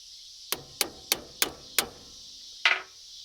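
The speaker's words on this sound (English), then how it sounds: "hammer taps just to make sure I got it." Five evenly spaced sharp hammer taps in quick succession during a Case 450 dozer hydraulic cylinder rebuild, followed after a pause by a final doubled tap, close and crisp over a faint hiss.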